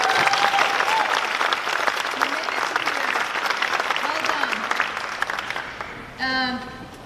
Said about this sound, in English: Class of 2023, I want you to give yourself a round of applause.